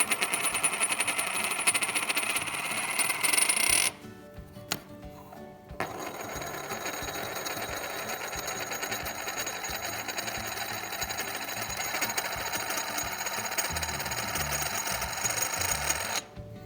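A silver dollar coin spins on a hard surface, giving a continuous metallic whirring rattle that holds steady, breaks off briefly and starts again, close and fairly quiet.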